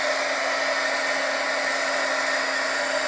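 A heat embossing tool blows hot air over embossing powder on cardstock, giving a steady, loud, close whoosh like a hair dryer with a constant whine. It runs alone throughout, with no talk.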